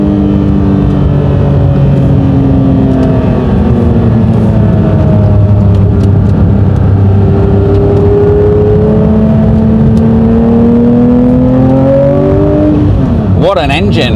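A Porsche 911 engine revs hard to about 7,000 rpm and climbs through the gears, its deep roar rising and falling close by for the whole stretch, with a sharp rev near the end.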